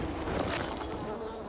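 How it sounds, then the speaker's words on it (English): A steady insect buzz of bees in the video game Dying Light 2 drones continuously under a dense, noisy background, like bees humming nearby. "I hear bees as well."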